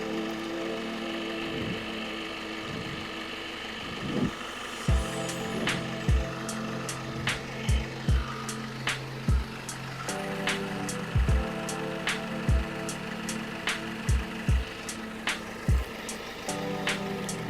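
A GoMechanic Gusto T10 portable tyre inflator pumping up a Thar Jeep tyre runs with a steady buzzing motor drone, its regular thudding piston beats growing more distinct partway through.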